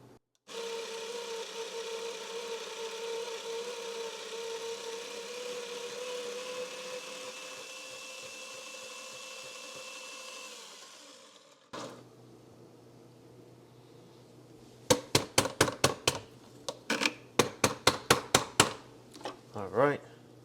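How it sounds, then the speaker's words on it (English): Coffee beans for Black Lotus Colombian espresso whir through an electric grinder in a steady, close motor drone that winds down and stops. A run of sharp tapping knocks follows. "Got the beans in. We're gonna grind this at 7."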